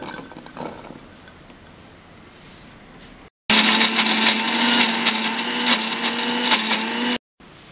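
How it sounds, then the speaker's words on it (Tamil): A mixer grinder whirs loudly as it grinds ginger and garlic, starting after a quieter stretch and running at a steady high whine for about four seconds before cutting off abruptly. "முதல்ல நம்ம இஞ்சி பூண்டை அரைச்சி எடுத்துக்கலாம்."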